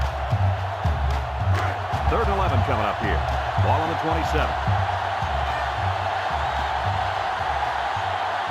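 A steady stadium crowd murmurs and swells in the NCAA Football 2005 video game, heard as a dense background roar under commentator talk, with a few louder bursts.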